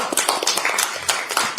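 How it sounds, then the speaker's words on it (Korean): A small group applauds at a Democratic Party supreme council meeting in Korea, with a brief burst of dense, overlapping hand claps at steady volume and no talk over it. "위로와 응원의 박수를 부탁드리겠습니다"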